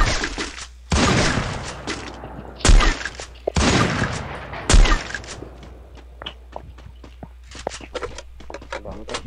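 Gunfire in the battle-royale game Free Fire: several sharp, loud shot bursts and a rapid fusillade, with thuds and shattering clicks between them, close and punchy, with no talk over it.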